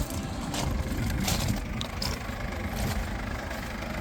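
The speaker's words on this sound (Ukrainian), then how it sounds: "двигунчик працює просто ідеально" A steady, low engine rumble from a 2019 Mercedes-Benz Sprinter van idles evenly for a few seconds, fairly close, with no voices.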